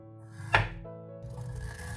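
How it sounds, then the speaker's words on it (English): A knife cuts through ginger root into thick slices on a board, one sharp, close thunk followed by quiet scraping, no voices. "Slice ginger into thick slices."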